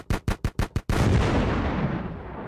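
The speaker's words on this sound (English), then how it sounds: "I got the explosion sound." An explosion sound effect fires from a soundboard: five rapid sharp gunfire-like pops, then a loud sustained booming rumble that slowly fades, close and alone with no talk.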